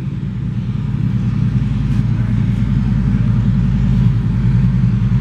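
Harley-Davidson Sportster 72 (2015 XL1200V) with loud aftermarket pipes idling close by, a deep, loud, rhythmic V-twin rumble with steady pulsing exhaust throughout and no talk.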